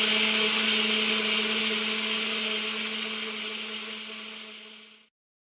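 A mixer or blender steadily churns homemade carp boilie bait ingredients with a loud, continuous motor whine and a low hum, running alone for several seconds before cutting off abruptly.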